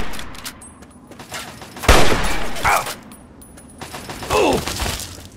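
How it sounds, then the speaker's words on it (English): Enemy gunfire in the video game Fallout 3, with a few sharp bursts of shots and clattering impacts spaced over several seconds against a quiet background. "Oh, now you guys are gonna shoot at me?"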